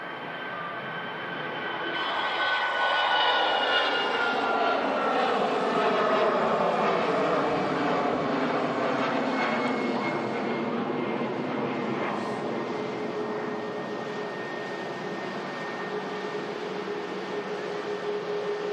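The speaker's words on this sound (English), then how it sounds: "And another Aer Lingus on the roll, heading out to Dublin" An Aer Lingus airliner rolls for takeoff at Manchester Airport, its jet engines swelling into a loud, sustained roar that holds steady and stays close throughout.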